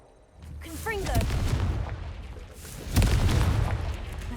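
Confringo blasting spell explosions in Hogwarts Legacy, two loud booming blasts with a deep rumble, the second sharper near the end, preceded by a brief whooshing spell-cast sweep.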